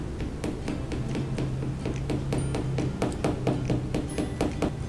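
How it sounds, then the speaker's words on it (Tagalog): A hammer taps in a quick, steady series of sharp, close strikes with a faint hum underneath. "Arog kani ang tanog kang martilyo."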